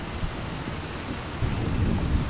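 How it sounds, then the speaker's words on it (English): Steady rain and low rolling thunder from a stormy day in the Farming Simulator 25 video game, a continuous dense wash with rumbling that swells louder in the second half, no voices. "Hopefully the rain goes away."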